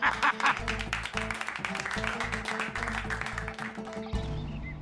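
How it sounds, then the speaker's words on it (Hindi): Clapping for a commissioner runs continuously as a dense, fairly loud patter over a low pulsing music bed, with a soft voice partly under it. "तालियां तालियां भाई।"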